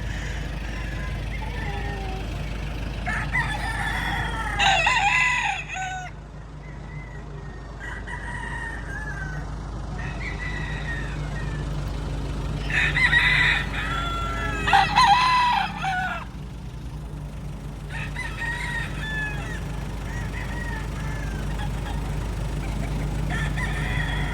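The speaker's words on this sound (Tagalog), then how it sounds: "Ito yung mga manok na dito na Mount Banahaw" Roosters and chickens on a farm at Mount Banahaw crow loudly in several drawn-out calls over a steady low background hum, with clucking in between. Faint voices can be heard in the background.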